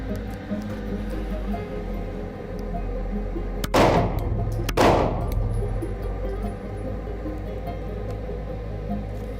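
Handgun shots fired during outdoor shooting practice: two sharp cracks about a second apart ring out over a steady low background hum, with no voices.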